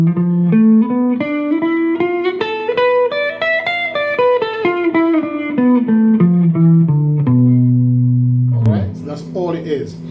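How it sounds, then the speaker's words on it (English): Guitar running up and down a Chicago blues scale, the blues scale with the fifth left out, in a reggae style: a quick, close line of single plucked notes climbing and falling, ending on a held low note, then brief noise. "So basically I'm using what they call is the Chicago blues scale."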